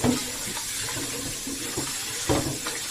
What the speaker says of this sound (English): I will also rinse my pot. It's the same pot that I use in cooking the beans. I'm rinsing it out.